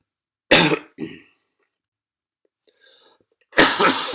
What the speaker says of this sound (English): this cough is never going away